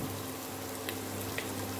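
Chopped onion frying in a pan gives a quiet, steady sizzle and crackle over a low kitchen hum, with a couple of brief louder pops.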